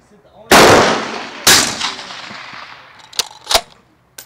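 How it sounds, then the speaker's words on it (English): Two sharp, loud rifle shots ring out at an outdoor shooting range, each followed by a long rolling echo, and then a couple of fainter sharp clicks. "Not bad for a first shot."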